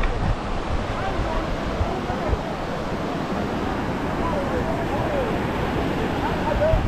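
Continuous roar of ocean surf breaking on Hampton Beach, New Hampshire, with wind buffeting the microphone throughout.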